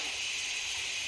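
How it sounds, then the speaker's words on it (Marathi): Mustard seeds hit hot oil in a pan, making a steady bright sizzle that holds evenly throughout at moderate loudness, with no talk over it. "थोडं तेल पॅनमध्ये टाकू। तेल तापलेलं आहे। आता मोहरी टाकायची"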